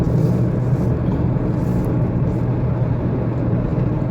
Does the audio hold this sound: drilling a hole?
no